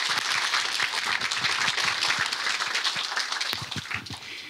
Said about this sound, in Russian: вы уже своими аплодисментами выразили отношение к этой лекции